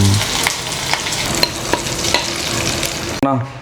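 Mustard seeds and fenugreek frying in hot oil for a dried spiny-tailed fish curry, a loud steady sizzle with small popping crackles, ending in a sudden sharp burst of spattering near the end.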